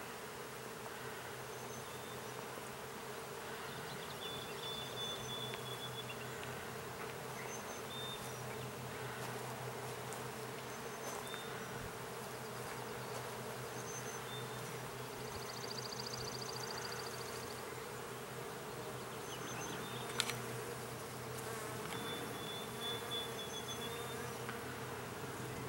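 Dense, steady hum of many bees buzzing around a flowering tree, outdoors and continuous throughout, with a few individual insects passing nearer and no talking.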